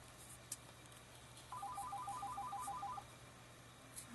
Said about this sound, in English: There's the phone making noise.